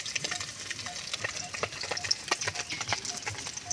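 Small pieces of local fish sizzle in hot oil in a pan, a steady crackling fry with scattered spatter pops and occasional stirring clicks, close and fairly quiet.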